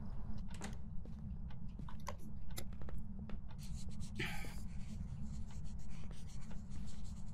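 Pen scratching on paper in a notebook during the Phasmophobia ghost-hunting game, a run of quick, dry scribbling strokes with a brief louder rustle midway, heard close over a steady low background hum.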